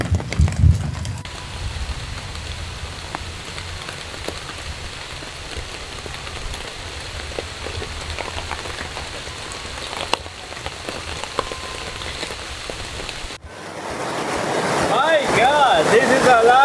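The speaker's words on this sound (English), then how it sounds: "This is a lot of rain." Heavy rain pours onto a tent at a campsite, a dense, continuous patter close by that rises louder and rougher near the end.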